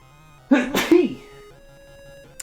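One sharp, loud human sneeze bursts out in two quick explosive parts, close to the microphone, over quiet retro video game music playing in the background.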